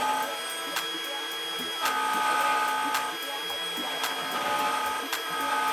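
A CNC router carves a wooden plaque with a steady high whine and motor hum, punctuated by regular clicking ticks at about one per second, moderately quiet.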